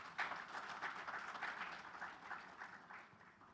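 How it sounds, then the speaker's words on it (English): A panel audience at an infrastructure event claps steadily for several seconds, a fairly quiet, even patter of hands that tapers slightly toward the end. "Please give a round of applause."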